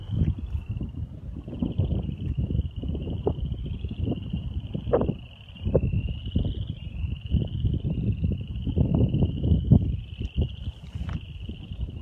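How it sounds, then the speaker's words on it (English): Wind gusts across an open hill at Arabia Mountain, buffeting the microphone in rough, continuous rumbling bursts, with a thin steady insect drone high above and one brief lull midway. "It's windy today."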